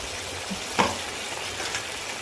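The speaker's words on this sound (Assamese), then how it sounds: "এতিয়া ধুনীয়াকৈ এনেদৰে লৰাই লওঁ" Chilli and spices fry in oil in a pan and are stirred, producing a continuous close sizzle with one brief utensil scrape midway and a fainter one near the end.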